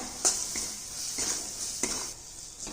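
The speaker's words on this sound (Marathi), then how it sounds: "हे सर्व मसाले छान असे फ्राय करून घ्यायचे" Red chilli powder and garam masala fry in a pan for egg curry, a soft sizzle punctuated by three or four distinct clinks and scrapes of a spoon stirring against the pan, with no speech.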